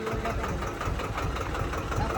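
A tractor engine runs steadily with a rotavator attached, a continuous rumbling, knocking drone at moderate level throughout with no pauses.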